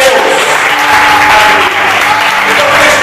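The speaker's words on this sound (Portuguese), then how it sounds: "Vamos dar uma salva de palmas para Jesus" A church congregation in Taquaril applauds during a worship service, loud, dense clapping from a crowd that stays steady throughout, with a voice and tonal hum faintly under the claps.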